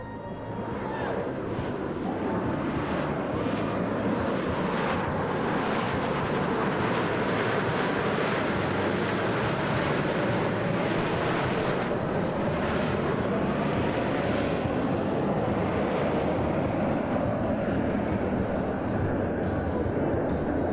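Four Blue Angels Diamond jets flying past in tight formation at the Pensacola Beach air show, a loud continuous roaring rush that swells and holds as they pass, with an announcer talking over it.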